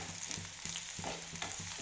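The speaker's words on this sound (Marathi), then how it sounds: "इथं लालसर होईसर तळू द्यायचा आहे कांदा आपल्याला" Sliced onions fry in a pan on a large gas burner for egg biryani, giving a steady close sizzle with small crackles and faint stirring knocks throughout.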